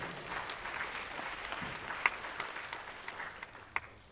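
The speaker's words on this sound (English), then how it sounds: "Can we give them all a round of applause as they join us on stage?" Applause from an audience at an arts festival closing ceremony as visiting artists come on stage, a soft, fairly distant patter of clapping with a few sharper claps standing out.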